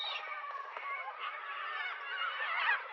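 Galah cockatoos call in a flock, a dense overlapping chorus of harsh, screechy chatter at moderate distance that continues steadily throughout.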